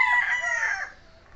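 A stag gamecock, a young rooster, crows once in a loud, clear, rising-then-falling call lasting about a second before fading into quiet.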